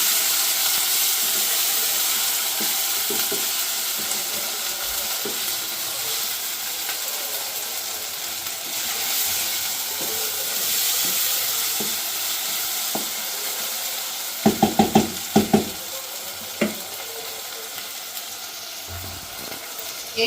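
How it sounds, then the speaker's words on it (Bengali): Ground garlic, cumin and ginger paste with salt fries in a pan, giving a steady close sizzle and hiss, with sharp clicks and knocks of a spoon stirring in a short cluster later on. "এখানে পুরো ভাজা ভাজা করে নিব এটাকে।"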